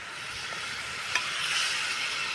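Water and drumstick pods go into a pan of roasted spices with garam masala, giving a steady soft sizzle with one brief clatter partway through, close and without talk.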